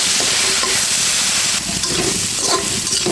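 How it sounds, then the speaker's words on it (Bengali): Loud, continuous sizzling of duck eggs frying in hot oil, steady crackle and hiss filling the whole moment with no voices. "ডিমটা উঠিয়ে ডিমটা দিয়ে দিয়েছি এখন একটু ভেজে নেব"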